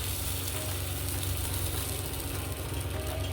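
Batter for a bread dosa, made with soda and maida flour, sizzling and frying on a hot pan, a steady close crackle with a low hum running under it throughout.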